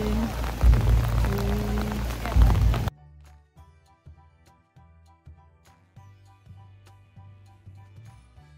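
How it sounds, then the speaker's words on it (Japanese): Rain falls during a visit to a shrine in Aichi, Japan, a loud patter on umbrellas for about three seconds with a few brief tones. It then cuts to quiet, sparse ticking and soft musical notes. "ちょっと雨は降っておりまして"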